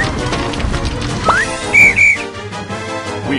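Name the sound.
whistle blown as a rescue signal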